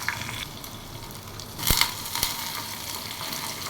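Chopped onion and asafoetida hiss and sizzle steadily as they fry in hot oil, a soft close crackle with a brief louder burst of spattering partway through.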